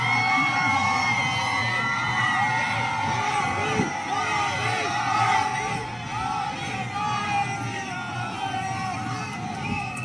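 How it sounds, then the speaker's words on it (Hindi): Dense crowd noise from a PM Narendra Modi roadshow in Bhuj, with continuous loud cheering, yells and whoops from people lining the route, steady throughout with no distinct speech. "प्रधानमंत्री नरेंद्र मोदी के स्वागत के लिए उमड़े हुए लोग और प्रधानमंत्री उनका अभिवादन करते हुए"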